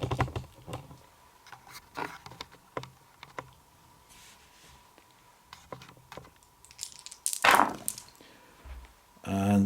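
Five dice rolled during a Napoleonic tabletop wargame, with short clattering taps and tumbling clicks scattered across the table, one louder rattling burst near the end, fairly close.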